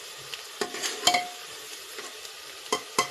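Chopped onion stir-fried in oil in a pressure cooker for a chicken dish: scattered spatula scrapes and clinks over a soft, steady sizzle, close by.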